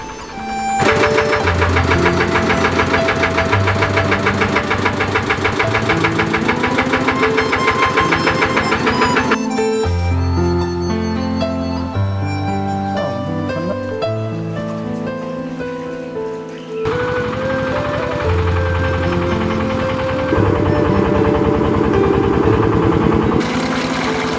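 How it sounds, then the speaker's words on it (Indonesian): A small water pump engine drawing water from a river runs steadily and loudly throughout, with a rattling mechanical drone that shifts slightly in pitch partway through. "penyedotan air dari sungai menggunakan mesin pompa air"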